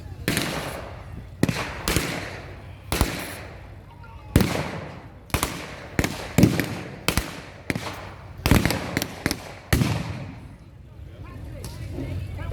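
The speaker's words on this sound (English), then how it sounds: "Been supported by the mini mortar, laying down fire" A mini mortar fires repeatedly at an outdoor WW2 battle reenactment, giving a dozen or so sharp, loud bangs at irregular intervals that echo and decay between shots. Voices talk faintly in the background.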